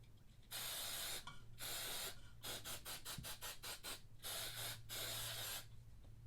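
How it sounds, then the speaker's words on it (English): Close aerosol spray of silicone mold release hisses in several bursts, first long sprays, then a rapid series of short puffs, then longer sprays again. "We're just going to give it a good spray."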